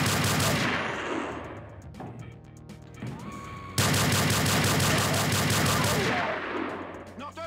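Gunfire in the Doom total conversion Project Einherjar, dense rapid automatic bursts that thin out, pause briefly, then resume loud and sustained, with shouted voices mixed in.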